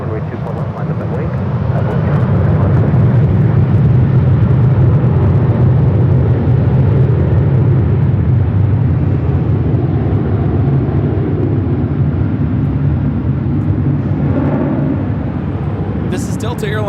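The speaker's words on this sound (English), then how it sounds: "This is Delta Airlines 1865 taking off to Puerto Vallarta on the 737-800." A Delta Airlines Boeing 737-800 takes off at Los Angeles airport, its engines building into a loud, sustained roar that holds steady for most of the stretch and begins to ease toward the end.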